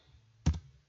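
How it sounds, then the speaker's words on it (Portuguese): A single Enter key press on a computer keyboard while working in a spreadsheet, a short close click with a brief follow-up tap, alone over a low background hum. "E eu dou um Enter."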